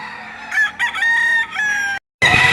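A stag rooster crows loudly and close at a livestock market in Padre Garcia, Batangas, one long harmonic call broken by short pauses, then a brief silence before another crow starts.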